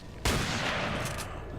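A shotgun blast in Resident Evil 4, a single loud, close burst that hits suddenly and rings out in a dense noisy decay lasting over a second.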